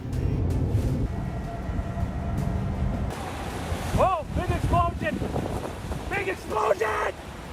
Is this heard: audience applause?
no